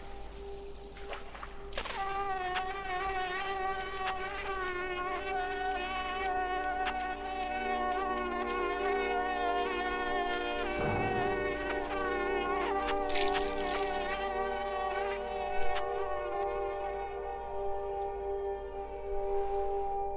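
A fly in the video game Limbo gives a steady, loud, droning buzz with a rich, whiny tone that holds for the whole stretch and swells slightly at moments.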